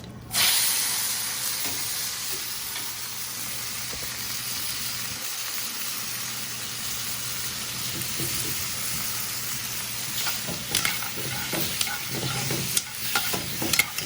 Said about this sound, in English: there's oil in this pan and it's gonna, sparkle up and all that. So you can hear it already if you listen carefully.